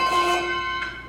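A bell struck with a normal ringing stroke, one clear metallic strike whose overtones ring and fade, followed by a softer second touch near the end, close and alone.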